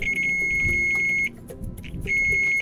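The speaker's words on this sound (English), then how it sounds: "I've taken my meter and set it to continuity" A steady multimeter continuity beep sounds while the probes touch during LED light work on a Gemini 3200 catamaran, holding a continuous tone, breaking off briefly, then resuming, loud over background noise.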